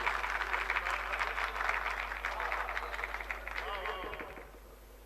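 Audience applause fills a poetry gathering with steady, dense clapping that holds for about four seconds before thinning out, over a faint background hum.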